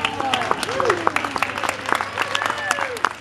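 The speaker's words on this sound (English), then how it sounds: "What's with the golf clap?" Light, scattered clapping from a crowd at a horse liberty training demonstration, sparse irregular claps with a voice and some higher vocal sounds running over them.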